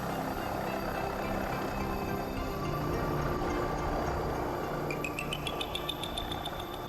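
A NOTAR police helicopter, with no tail rotor and a fan blowing air down the tail boom, flying at an air display, gives a steady distant whine and rumble; a short series of faint high ticks comes near the end.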